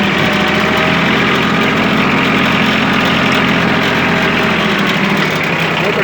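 A Yanmar F155 mini tractor's diesel engine idles close up, a loud, steady knocking chug that stays even throughout with no voices.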